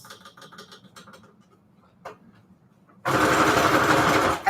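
Sewing machine stitching paper strips onto tags: a few soft ticks, then a loud steady burst of stitching that runs for about a second and a half before stopping.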